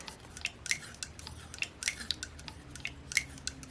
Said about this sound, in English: Now that clicking, clicking, clicking sound you're hearing is the rockers all moving.